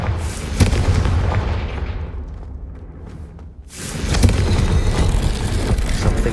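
A Confringo explosion spell from the video game Hogwarts Legacy bursts with a loud boom, its noise then fading away. A second burst of explosive rumble and crackle follows a few seconds later.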